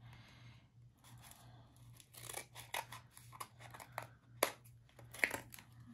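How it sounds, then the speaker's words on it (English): Scissors trim a printed picture for a scrapbook layout, a series of faint, close snips and paper crinkles at irregular intervals over a low steady hum. "I'm going to keep trimming off the picture until it's only filling this spot"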